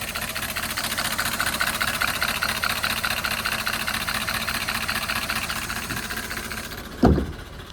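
A BMW E32 740iL V8 with 152,000 miles idles with sticking lifters, a steady, close rumble with a fine rapid ticking running throughout, ending in a single brief clunk.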